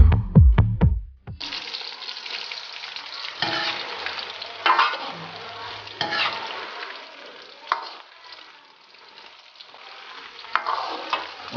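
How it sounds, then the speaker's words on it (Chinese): Pork slices deep-fry in hot oil over medium-low heat: a busy, continuous sizzle and bubbling, close and loud, after a few brief clatters at the start. "开始炸猪肉"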